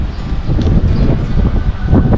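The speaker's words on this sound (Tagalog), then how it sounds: "lumalakas na ang hangin" Strong gusting wind ahead of an approaching super typhoon buffets the microphone with a low, rumbling roar and rustling, loud and continuous.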